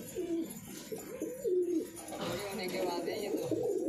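Pigeons coo in soft, rolling, repeated calls close by, several overlapping phrases under a steady murmur of background noise.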